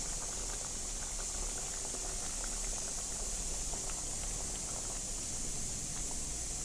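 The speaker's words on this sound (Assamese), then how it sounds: "আৰু অলপ সময় উতলিবলৈ ঢাকোন লগাই থৈ দিম।" Taro root and potato curry bubbling away in a covered pot, a steady, even simmer with light rattling that carries through the whole stretch without any voices.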